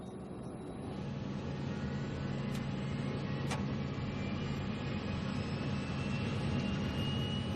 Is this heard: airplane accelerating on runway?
yes